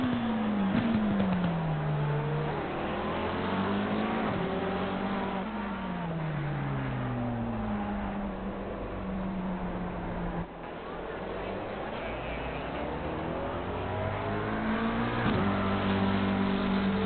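McLaren GT3 race car in the ACC racing game running down the main straight, its engine tone rising and falling through gear changes with other cars nearby, steady and loud, with commentary voices talking over it.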